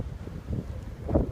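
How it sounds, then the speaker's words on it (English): Strong blizzard wind gusts buffet the microphone on a snowy homestead, a low roaring rumble that swells and surges in uneven bursts, loudest near the end, with no talking. "I can't look into the wind and speak at the same time. So as soon as this gust is over."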